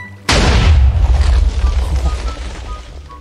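A creeper explodes in Minecraft with a sudden loud boom. A deep rumble follows and slowly fades over the next few seconds.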